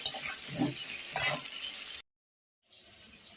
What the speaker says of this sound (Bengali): এখন আমি আলুগুলোকে এইভাবে ভাজা করব, লাল লাল করে ভাজাটা করব